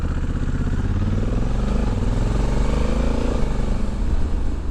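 A 2020 Honda Africa Twin Adventure Sports DCT motorcycle riding in sport mode, its engine a steady loud drone with rising and falling pitch as it accelerates and shifts, close up with wind and road noise.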